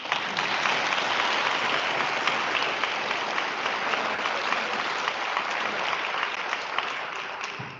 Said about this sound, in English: Give Luke a round of applause.